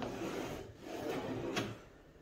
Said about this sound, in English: They do have that drawer for trash cans.